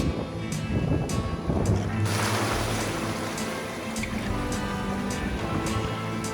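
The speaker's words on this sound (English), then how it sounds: "But here comes a big wave." Water surges and washes loudly onto a beach, a big wave rushing in over steady wind and surf noise, with brief ticking sounds recurring throughout.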